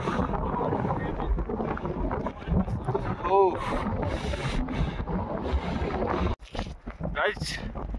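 Strong cold wind buffets the microphone during a Himalayan trek at high altitude, roaring steadily and close throughout, with a brief dropout near the end and a voice talking over it.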